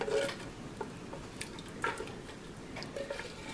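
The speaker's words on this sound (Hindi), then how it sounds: "और उसके बाद फिर हम इसको चमचे से चलाएंगे" A spoon stirs meat curry (kunna gosht) in a pot, giving soft scraping and light clinks of metal with wet, liquid sounds, quiet and irregular.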